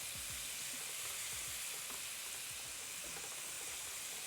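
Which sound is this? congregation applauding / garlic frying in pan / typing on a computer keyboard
garlic frying in pan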